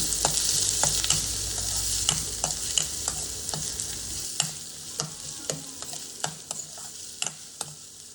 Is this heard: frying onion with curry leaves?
yes